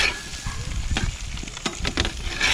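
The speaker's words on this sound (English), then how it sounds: "Flip these burgers again." Burgers and potatoes sizzling on a windy outdoor RV grill, a steady hiss broken by a few sharp scraping flips of a spatula, close and fairly loud.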